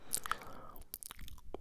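Close, quiet wet mouth sounds from a male ASMR performer: soft clicks, smacks and crunchy chewing-like bits, scattered irregularly over a low hiss with no talking.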